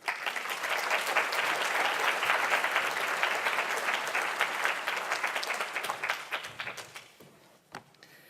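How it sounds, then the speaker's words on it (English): A conference audience at a behavioural insights plenary breaks into warm applause, dense clapping from many hands that holds steady for several seconds before thinning out to a few scattered claps. "So please give her a warm applause as she makes her way to the lectern."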